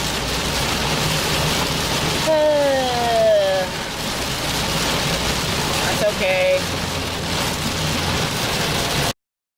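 Rain falling steadily as a dense, close hiss throughout, with a voice speaking briefly and a few tonal squeaks over the downpour before it cuts off.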